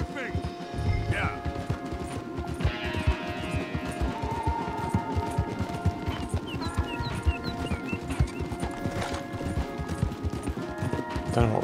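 Horse hooves in Red Dead Redemption 2 pound in a quick, steady galloping rhythm close by, joined by game effects and people talking over them.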